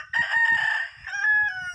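A gamefowl rooster, a Kanawayon blue fish hatch cross, crows loudly and close by in one long two-part call, with faint low murmurs underneath.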